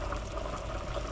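A roux of butter and flour with heavy cream and garlic pepper seasoning bubbles as it simmers in a pot for ham potato cheese soup, giving a steady soft bubbling and liquid churning, close and continuous with no talk.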